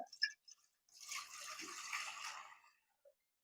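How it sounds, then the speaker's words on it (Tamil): A tumbler of water poured into a pressure cooker for jeera samba mutton biryani: a soft, brief watery pour lasting about a second and a half, faint and close, after a few small clinks, with no speech. "ஒரு டம்ளர் தண்ணி ஊற்றிடுறேன்"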